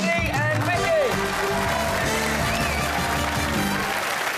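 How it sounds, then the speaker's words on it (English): Studio audience applause on a Saturday-night television game show, a dense steady roar of clapping sustained at full level for several seconds, with a few voices and music-like tones mixed underneath. "Take him a round of applause for Eddie and Vicky."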